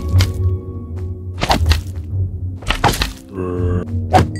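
Monsters in an in-real-life Minecraft animation get smashed with a pistol: heavy thunks and whacks land in short, irregular bursts, with squishy impacts over a low game background and no talking.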